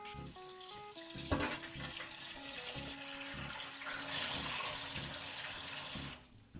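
Tap water runs steadily over freshly cut ginger in a sink while it is rinsed, a continuous splashing rush with brief louder bursts and faint clinks, no talking.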